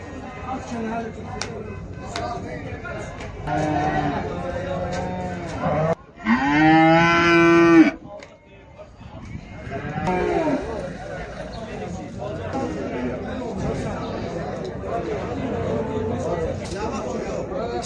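People talk throughout a busy livestock market, and midway a cow lets out one loud, drawn-out moo close by.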